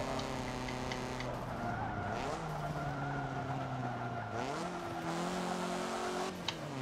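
Tires skid and squeal under hard braking during a hot hatch race in Forza Motorsport 7: a long, continuous screech over the droning racing engines, with pitch sweeps as the car slows and shifts, close and steady throughout.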